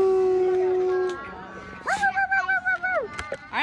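A dog howls in a drawn-out, wavering tone that breaks into a few yips and whimpers, moderately loud and nearby, with people speaking around it.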